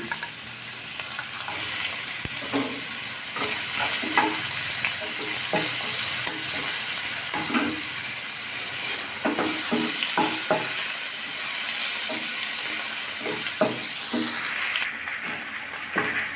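Chopped tomato fries in fennel sauce in a pan while cooking Bengali potol mouri. A steady loud sizzle is punctuated by repeated stirring scrapes, and there is no talk.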